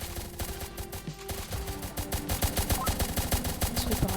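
Rapid gunfire from a sniper tower in a Roblox tower defense game, a dense, loud, continuous rattle of shots layered over other game sounds throughout.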